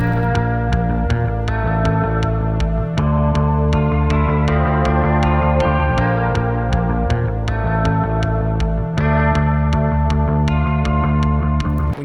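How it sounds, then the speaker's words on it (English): A post-punk pre-chorus groove built from bass, a one-note synth drone and a one-shot guitar pattern over a steady four-on-the-floor kick, loud and dense with the kick thumping regularly throughout. "copy and paste our bass, our 1-note synth drone, our 1-shot guitar pattern, and the kick"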